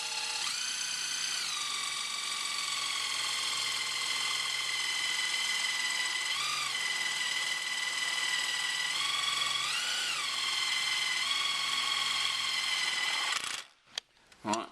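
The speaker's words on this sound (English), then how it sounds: "getting the electric drill and the self-drilling screws" An electric drill runs steadily with self-drilling screws while fitting headlight guards to a Land Rover Freelander 2, a continuous loud whine with brief pitch dips as each screw bites, stopping abruptly near the end.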